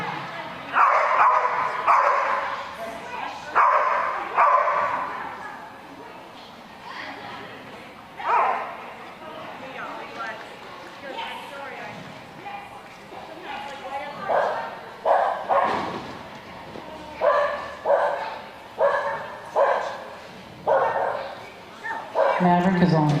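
A young smooth coat collie barks in short, repeated bursts at the 2019 NADAC dog agility championships, heard under continuous commentary.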